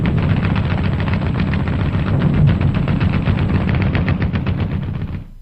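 Dense gunfire from heavy and small arms rattles in continuous rapid bursts, loud and close, with booming reports layered throughout and no pauses until it fades at the end.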